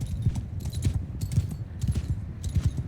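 Horse hooves clip-clopping in the video game Mount & Blade II: Bannerlord, a quiet, quick trotting rhythm of soft thuds repeating steadily without any voices.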